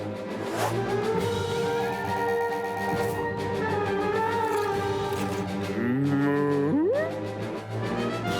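A cow moos repeatedly in long, drawn-out low calls, ending with a rising bellow, over a constant background hum.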